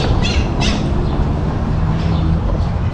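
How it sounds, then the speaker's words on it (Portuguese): A parakeet squawks in a small town square in Cristina, Minas Gerais, Brazil, with shrill calls breaking out a few times over a steady bed of outdoor background noise. "Periquito gritando aí."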